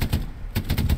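Gunfire in the World War II shooter Hell Let Loose, heard as sharp clustered bursts of shots in a tank-crew firefight. Two groups of loud reports are split by a short gap.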